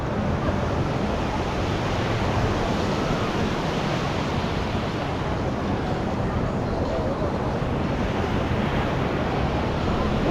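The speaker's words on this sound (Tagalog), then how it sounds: "Ayun na yung alon o." Ocean waves at Tondaligan Blue Beach in Dagupan, Pangasinan, a continuous broad roar of surf with wind buffeting the microphone, steady and loud throughout without any talk.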